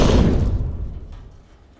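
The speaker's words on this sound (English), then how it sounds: "Here's the explosion layer." Explosion sound effect layer, a single deep boom with a heavy low-end thud that rolls off and slowly fades over nearly two seconds.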